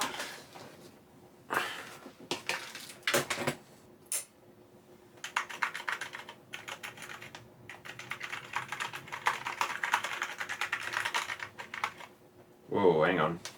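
Typing on an Amiga 1000 keyboard, bursts of rapid key clicks separated by pauses, fairly close, with a brief rustle at the end.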